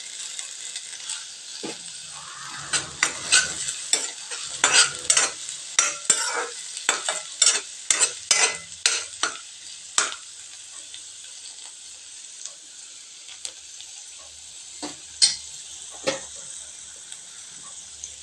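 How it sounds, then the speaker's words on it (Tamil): Chopped onion and curry leaves frying in a pan, with a steady hiss of sizzling oil and a run of sharp spoon scrapes and clatters while stirring, fading to a quieter sizzle with only occasional scrapes. "இப்போ வெங்காயம் சேர்த்துக்கலாங்க. கருவேப்பிலை சேர்த்துக்கலாங்க."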